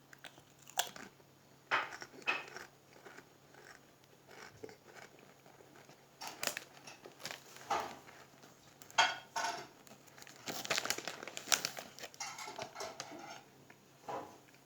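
Crunchy Samba ridged maxi potato chips with pesto sauce seasoning being bitten and chewed close up, with repeated sharp crunching bursts in uneven rhythm and quieter chewing between bites, no talking.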